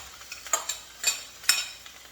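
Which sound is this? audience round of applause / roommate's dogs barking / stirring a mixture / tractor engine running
stirring a mixture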